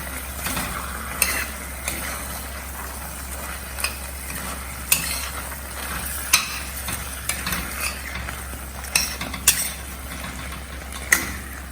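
Paneer cubes being stirred with spicy masala in a pan, a spoon scraping and clacking in irregular knocks over a soft sizzle, with no talking.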